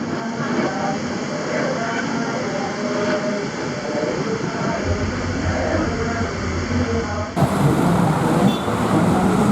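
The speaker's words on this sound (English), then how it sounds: "I caught the early train back to Colombo" Early train ride back to Colombo, Sri Lanka: a steady, loud rumble of a moving passenger train fills the whole span, with rattling carriage noise and a sudden rise in intensity near the end.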